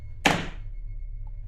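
A single dull thump heard during a tabletop role-playing game session, loud and close, dying away within half a second and followed by a quiet, steady room hum.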